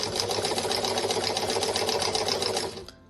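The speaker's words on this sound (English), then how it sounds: "So I'm going to just sew forward now using my foot pedal." A sewing machine run forward by its foot pedal stitches fabric in a fast, even mechanical whir with a rapid needle rhythm, close and steady, winding down and stopping near the end.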